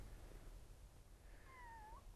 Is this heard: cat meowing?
yes